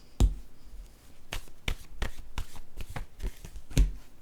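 A deck of playing cards is shuffled repeatedly, giving sharp riffling bursts and snaps spread across a few seconds, fairly close and loud, with no talking.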